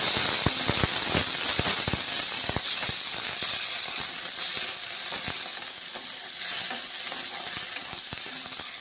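Earthworms being sautéed in oil in a pan give a steady hiss with rapid sharp crackles and clicks, close and continuous with no talking.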